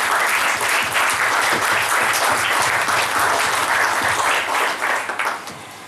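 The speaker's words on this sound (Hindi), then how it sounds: "दोस्तों एक बार फिर से जोरदार तालियां।" Enthusiastic applause fills the hall at a book launch event, loud, thick clapping sustained for several seconds before thinning out and fading near the end.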